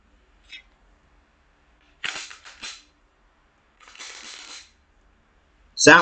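Sharp metallic clicks and a rasping slide of Glock pistol parts fitting together as the slide is reassembled, with quiet gaps between, ending in a loud snap.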